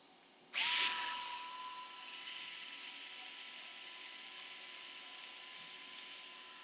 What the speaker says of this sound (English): Then we're going to grind down that shark fin on that back skid plate.